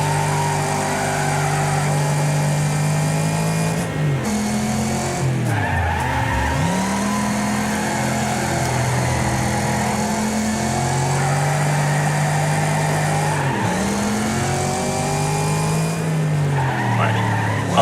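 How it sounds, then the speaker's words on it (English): Race car engines droning steadily through a race in the video game Wreckfest, with long tire squeals and skids as cars brake and slide, loud and continuous for the whole stretch. "Almost did a Casey, hit the brakes, turned in too early"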